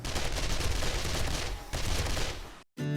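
Sustained automatic SMG fire in the zombie survival game 7 Days to Die, a dense, continuous rattle of rapid shots for nearly three seconds, dipping briefly before a sudden cutoff and a short resumption.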